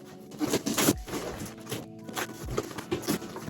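A blade slices open a big cardboard box, with ripping, scraping strokes in bursts and a short pause midway, close and fairly loud with no talking.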